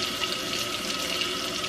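Water runs steadily from a tap into oatmeal, a close, continuous hissing splash with no pauses.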